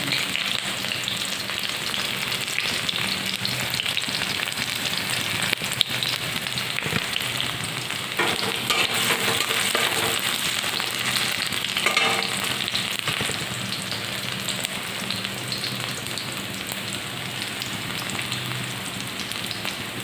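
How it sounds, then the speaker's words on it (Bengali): Chopped vegetables and grass pea greens fry in hot oil, a loud steady sizzle lasting throughout with occasional faint stirring clatter and no talking. "তেলের ওপরে ওই যে সবজিগুলো কেটেছি ওগুলো ভাজবো"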